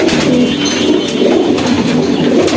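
High-flying pigeons kept at a home loft in rainy weather, a flock giving a dense, continuous low cooing that is loud and close, with faint chirps above it and no talk.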